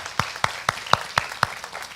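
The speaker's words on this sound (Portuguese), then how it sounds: "Aplauso para os homens, ó." A church congregation claps for the men in a steady rhythm, with about four crisp beats per second in a short, even burst.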